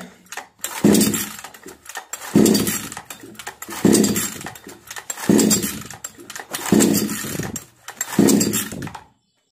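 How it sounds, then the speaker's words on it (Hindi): A chainsaw being pull-started fails again and again: six rhythmic pull-cord bursts with rattling sputters, the engine never catching. No one speaks. "जैसा कि आपने देखा चैन सो मशीन बिल्कुल भी स्टार्ट नहीं हो रहा है"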